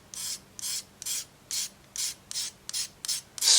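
A knife blade scrapes dust off a pastel stick in a series of about eight short, evenly spaced raspy strokes, close and fairly quiet.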